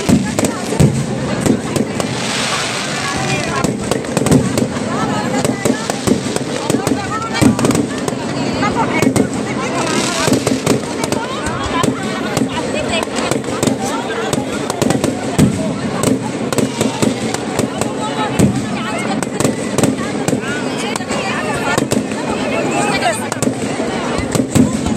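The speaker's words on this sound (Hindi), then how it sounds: "आप सभी लोग आतिशबाजी का आनंद ले रहे हैं।" Fireworks at a Ramlila celebration in Nainital crackle and pop continuously, loud and dense bursts overlapping with a festive crowd murmur and chatter throughout.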